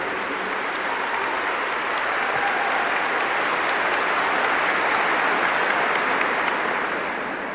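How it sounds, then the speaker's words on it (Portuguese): A congregation applauds at a church healing service, with loud, dense, steady clapping that fills the whole stretch without a break. "Give the Lord a big clap for that."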